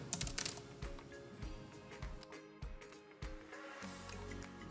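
A password being typed on a computer keyboard: quick irregular key clicks with a faint low background hum.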